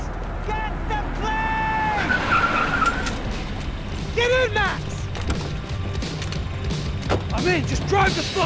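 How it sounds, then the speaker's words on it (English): In the video game Max Payne 3, a car races and skids with continuous engine and road noise, tire squeals and crunching impacts, while voices shout over the action. "Just drive the fucking car!"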